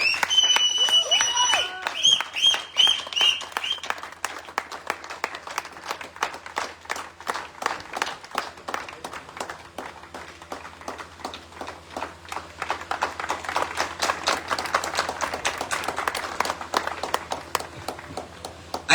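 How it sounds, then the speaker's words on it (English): Sustained audience applause and clapping for an award recipient called up on stage at a company rewards and recognition event, dense and steady throughout with some rhythmic clapping, a few faint tones early on. "I need extra thunder of applause."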